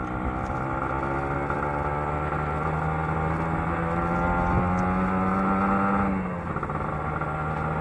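Two-stroke Kawasaki Ninja RR motorcycle riding by, its engine a steady buzzing drone with a slight rise in pitch before easing off near the end, heard close and continuous with no talk.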